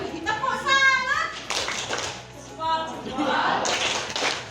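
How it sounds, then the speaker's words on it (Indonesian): Children perform a rhythmic patterned clap together in a classroom, with bursts of clapping mixed under chanting voices of the kids and an adult speaking. "Tepuk salut"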